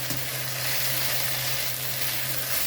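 Okra frying in a pan while being stirred, a steady close sizzle with faint scraping, continuous and even throughout.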